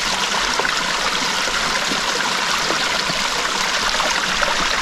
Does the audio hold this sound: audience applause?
no